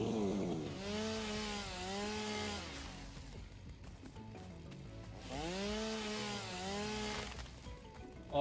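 A chainsaw in the video game Satisfactory revs through trees in two long cutting passes, loud and close, with a quieter idle between them.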